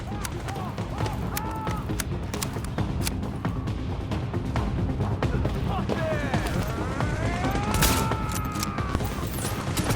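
Rapid bursts of gunfire from the Tom Clancy's The Division video game crack repeatedly over a busy mix of game effects and mechanical noise, with a player talking faintly underneath.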